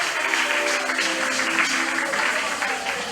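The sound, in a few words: congregation applauding in church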